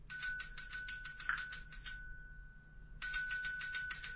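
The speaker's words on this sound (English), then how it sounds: "That's right, it's a bell." A small handheld bell is shaken during a children's storytime at a library, ringing in rapid bright jingling bursts, then a brief pause before the ringing resumes, close and clear.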